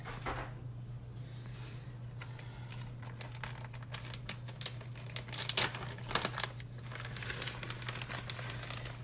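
A plastic bag of mozzarella cheese crinkles and rustles in a home kitchen, with irregular crisp crackles rising and falling over about nine seconds, louder bursts near the middle, against a steady low hum.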